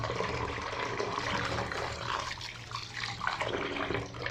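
Rinse water from washing aloe vera gel is poured out, making a close, continuous splashing gush that wavers in strength and tails off toward the end.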